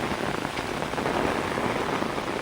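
Steady, dense rainfall pours down without pause, a continuous broadband hiss of drops striking surfaces close by, with no voices.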